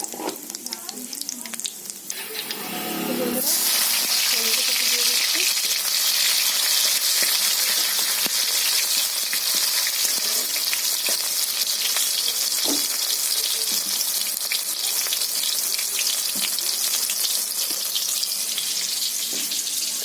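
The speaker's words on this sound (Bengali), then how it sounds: "কড়াইতে আবার আমি একটু তেল দিয়ে দিচ্ছি তো বন্ধুরা কালো জিরে ফোড়নে দিয়ে দিচ্ছি জিরা কাঁচা লঙ্কা দিয়ে দিচ্ছি" Nigella seeds and green chillies dropped into hot oil in a wok set off a loud, sustained sizzle after a quieter start, crackling continuously and close up for the rest of the time.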